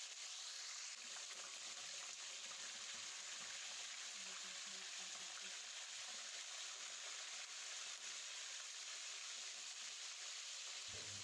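Chicken pieces frying in oil for Peshawari street-style charsi karahi, a soft continuous sizzle and bubbling hiss, faint and even.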